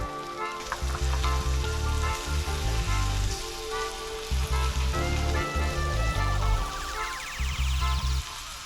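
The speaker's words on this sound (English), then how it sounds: "Now I'll cook our trout about 4 to 5 minutes on each side" Blackened trout fries in butter in a pan with a loud, continuous close sizzle and crackle that pulses unevenly throughout.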